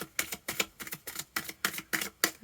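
A deck of oracle cards is riffled and shuffled close by, producing a quick run of crisp papery flutters and slaps in an even rhythm, loud and clear with no talking.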